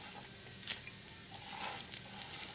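Red chillies and spices sizzle in hot oil while being roasted village-style for black masala for a mutton curry: a faint, steady frying hiss with soft crackles, close by and alone.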